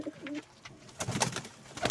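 Soft, low pigeon coos repeat a few times close by, with light rustling and a short burst of fluttering noise.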